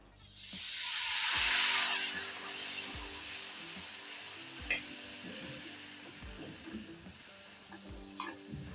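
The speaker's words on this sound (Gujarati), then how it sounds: "પછી આપણે એની અંદર બે ચમચી જેટલું પાણી નાખવાનું છે" Steady sizzling as two spoons of water hit a spiced pan for banana curry, loudest near the start, with a spoon scraping and stirring in scattered knocks throughout.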